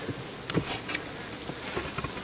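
Honeybees buzz softly in a steady hum at a hive entrance in late November, with a few brief louder passes as individual insects fly near.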